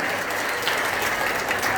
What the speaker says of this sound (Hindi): एक बार इस बच्ची के लिए जोरदार ताली आपकी बजनी चाहिए